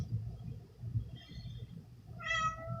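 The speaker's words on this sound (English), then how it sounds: "Sorry, my cat." A house cat meows near the microphone toward the end, a few short rising calls after a stretch of low background rumble, with no talk over them.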